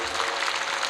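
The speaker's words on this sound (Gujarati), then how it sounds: "જોરદાર તાળીઓથી વધાવો." An audience at a Ram Katha gathering gives strong applause to welcome arriving saints, a brief and dense burst of clapping with no voices over it.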